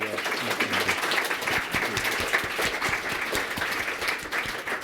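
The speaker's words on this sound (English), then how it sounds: "Can we have a round of applause, please" An audience at a Google Firestarters event claps for about five seconds, a dense, steady round of applause that keeps the same strength throughout and tapers slightly at the end.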